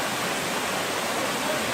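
Steady, dense roar of a canyon waterfall on Narlı Darı Creek in the Kaz Mountains (Mount Ida), Turkey, loud and unbroken, with no voices.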